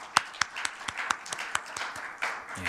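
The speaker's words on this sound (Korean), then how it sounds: "우리 함께 박수로 맞이하도록 하겠습니다." Sparse, fairly quiet applause from a small congregation at a Sunday young adults' worship service welcoming newly registered members. Distinct individual claps fall in an irregular rhythm with no talk.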